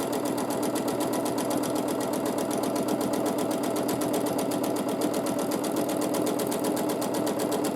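Continuous close whirring of a sewing machine free motion quilting through layered fabric, a rapid regular needle rhythm holding steady from start to finish.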